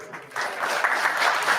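A small live-show audience claps, starting soft and quickly swelling into steady, moderately loud applause with scattered individual claps standing out.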